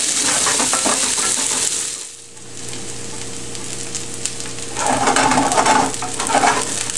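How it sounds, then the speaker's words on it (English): Celery and carrots stir-fry in sesame oil for Kung Pao tofu, a loud continuous sizzle with stirring scrapes and clinks, dipping briefly before swelling again. "Add our celery and our carrots, and let this stir fry for a minute."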